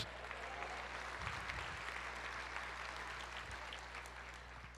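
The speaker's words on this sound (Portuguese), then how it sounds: "Quantos podem aplaudir," A church congregation applauding, a dense, even wash of many hands clapping heard faintly at a distance with a low steady hum beneath it.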